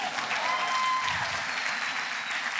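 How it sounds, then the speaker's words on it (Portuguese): Audience applause at a church service, fairly loud and steady from start to finish as the crowd claps for a pest-control team. "Uma salva de palmas"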